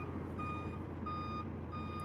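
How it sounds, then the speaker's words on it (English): A dump truck backs up with its reversing alarm beeping steadily, about three evenly spaced beeps over a constant low engine rumble; no one speaks. "There is a dump truck backing up"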